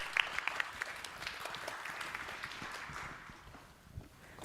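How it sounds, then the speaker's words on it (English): An audience at an academic visiting scholar address applauds itself, a soft, diffuse wash of many hands clapping at moderate distance that thins out and quiets toward the end. "everybody give yourselves a round of applause"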